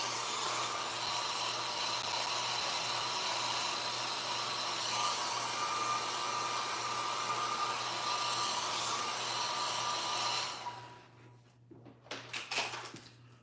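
Hair dryer blowing steadily on a mixed media art layer: a loud, constant whir that cuts off after about ten seconds, followed by a few brief handling clatters.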